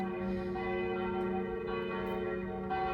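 Church-type bells ring in a steady, sustained tone with long overlapping resonance, loud and close, with no talking over them.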